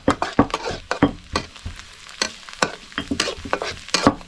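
A utensil stirs snakehead fish meat in a pot, making repeated scraping strokes in an uneven rhythm over a light sizzle, close and clear with no talking.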